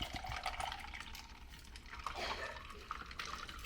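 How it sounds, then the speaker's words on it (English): Water pours into a drink bottle holding ice and blood orange juice, a steady close trickle with faint clinks, fairly quiet and without talk. "So I'm just gonna add some water to it."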